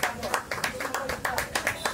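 Audience applause at a Mumbai Ambedkar Jayanti celebration held by sanitation workers, heard as a steady run of sharp, rapid clapping with evenly spaced bursts throughout, fairly faint.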